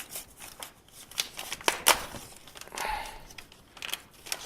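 A Capri Tools adjustable-flow blow gun is unwrapped from plastic packaging, with close crinkling, crackling handling noises in irregular bursts and a few sharper snaps.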